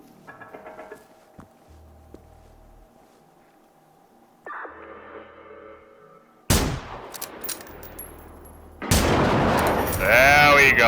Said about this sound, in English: I will take them out with a rifle.